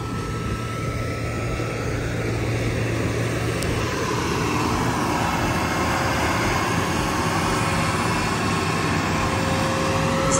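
Fendt tractor engine levelling a plot and scraping off the topsoil, a steady continuous low drone held at an even level throughout, with no talk.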